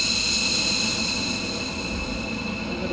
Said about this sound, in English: as the engine fully kicks in, the full thrust comes through